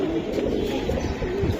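Silver and Beji female Giribaz pigeons cooing, a soft low rolling coo repeated through a short stretch, close by with no speech.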